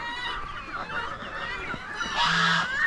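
Geese on a small farm honk in a short run of nasal, raspy calls close by, several overlapping cries with a louder, higher honk near the end.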